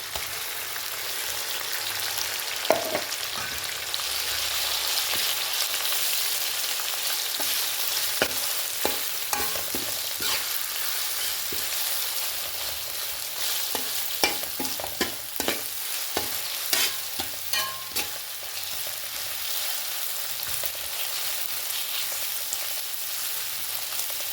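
Ginger garlic paste fries in oil for a carrot and lemon pickle, a continuous loud hiss broken by frequent scraping clicks of stirring spread across the whole stretch, with no talking.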